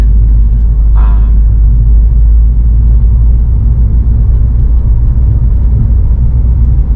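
A car cruises around a residential neighborhood, a loud, constant low engine and road rumble filling the cabin with a brief higher whine near the start.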